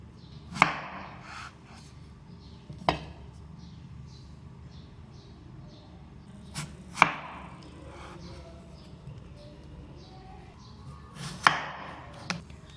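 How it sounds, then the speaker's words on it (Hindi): Knife slicing peeled potatoes on a cutting board for french fries: sharp, sparse chops spaced a few seconds apart, close and fairly quiet, with small scraping sounds between strokes and no talking. "अब इसकी कटिंग करूँगी स्लाइस में"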